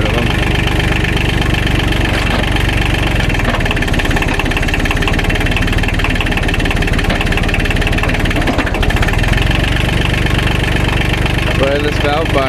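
A Kubota tractor engine idles loudly and steadily while the loader hydraulics are cycled after a new valve body is fitted, with a constant mechanical drone close by.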